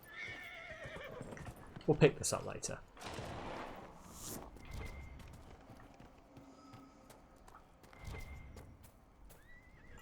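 A horse whinnies loudly in the video game Dragon Age Inquisition, a short bright neigh near the start with hoof clops around it, while someone talks over the game sounds.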